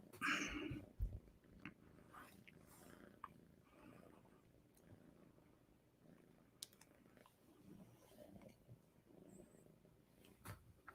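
A small cat purring softly close by, a faint, continuous low rumble with a few small clicks and rustles scattered through it.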